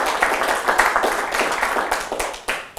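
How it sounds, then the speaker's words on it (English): A short burst of clapping from a small group, steady and fairly close, tapering off near the end. "give you a quick round of applause"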